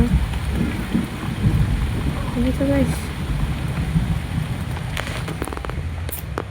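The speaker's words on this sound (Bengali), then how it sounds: "প্রচুর বৃষ্টি হচ্ছে, প্রচুর মেঘ ডাকছে, বৃষ্টি হচ্ছে, বজ্রপাত হচ্ছে" Heavy rain pours steadily with low rumbles of thunder beneath it, while a person speaks briefly over the downpour.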